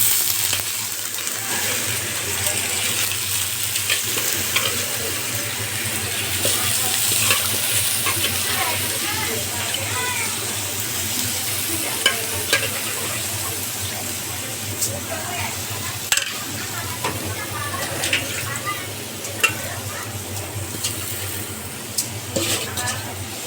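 Polao rice with onion, cardamom and cinnamon fries in a pan, giving a continuous soft sizzle with scraping stirs and occasional spoon clinks against the pan.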